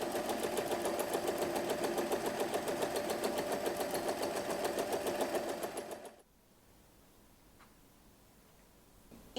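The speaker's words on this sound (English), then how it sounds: "Top stitch along the folded edge." A sewing machine runs steadily for about six seconds, topstitching along the folded edge of a pouch's front pocket with a fast, even ticking rhythm. It then stops abruptly, leaving quiet room tone.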